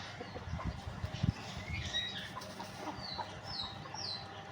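Hens sand bathing cluck softly and intermittently over a low, rustling background, with a few faint higher chirps and scratchy movement nearby.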